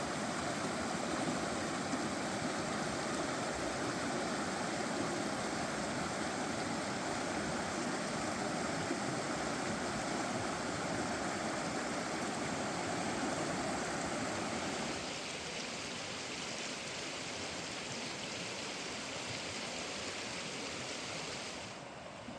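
Creek water rushing along Drummond Creek in the Whitehorse Wildlands Area of Alberta, a loud, continuous broadband flow close by that drops slightly in level partway through and stays unbroken with no talk.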